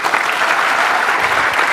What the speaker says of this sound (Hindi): लोग ताली भी बजा रहे हैं बिना सोचे